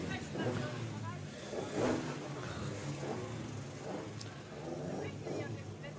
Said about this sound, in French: La BMW 2002, ex-Pierrot Sagnard qui arrive avec JB Sasselas et Cédric Renoir